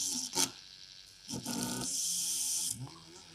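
A small hobby hand drill fitted with a 0.7 mm bit clears a tiny hole in a 1/16 scale model aircraft part, giving faint, close, brief scratchy rasping bursts.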